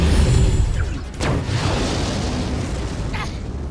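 A tank's main cannon fires in the Sand Land video game, a loud, close boom with a rumbling tail, then a second, sharper blast and crackling debris as it fades.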